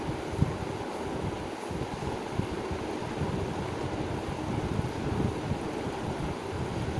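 Water starting to boil in a pot for cooking basmati rice gives a steady, soft, dense rumble and hiss with fine bubbling texture throughout, with no voices.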